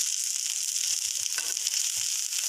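White rice being stirred into fried moringa leaves in a hot pan, a steady close sizzle with soft scraping pushes of the spoon repeating every fraction of a second.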